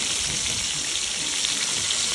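Plenty of onions fry in a pan for rougail saucisse, giving a loud, steady, close sizzle that runs unbroken throughout with no voices.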